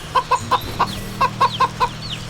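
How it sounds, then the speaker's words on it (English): Chickens in the video game Wytchwood cluck in a quick series of short, evenly spaced clucks over a low steady hum, fairly clear and close. "I can interact with the chickens"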